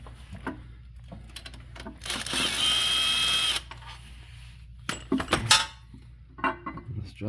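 The last oil pan bolt comes out of a Mitsubishi 3.0L engine: a short burst of power-driver whirring, then scattered metallic clicks and clanks of the tool and bolt nearby, with no talk.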